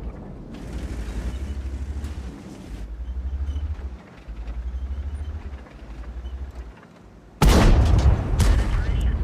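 World of Tanks gameplay with a Leopard tank engine droning low, then a sudden loud cannon blast with a sharp impact on enemy armor plate near the end, over a steady mechanical rumble.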